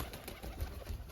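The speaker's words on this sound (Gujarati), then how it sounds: "મિત્રો યાર આપણે કબૂતરને અત્યારમાં ખોલી નાખે છે આવડા." Pigeons just let out of their loft onto a rooftop coo softly, faint and low beneath steady broadband outdoor noise, with no voices.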